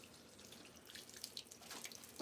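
Water trickling and splashing from a watering can or tap onto a small potted plant outdoors, a soft steady pour with faint drips, fairly quiet and alone.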